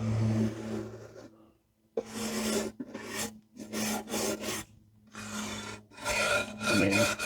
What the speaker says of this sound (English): I'm gonna go ahead and start scraping some of this off and see how much comes off.